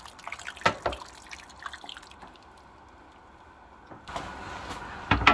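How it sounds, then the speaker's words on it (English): Thick homemade brown gravy is poured over a pot roast in a slow cooker, giving quiet wet drips and a few sharper splats, brief and close against a soft kitchen background. "And I'm going to pour that on top of my roast."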